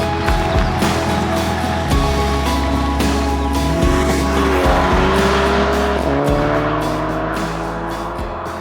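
A Mk7 VW Golf GTi accelerates hard on the road, its engine climbing through the revs with several sharp gear changes and brief tire chirps, loud and close with no talk.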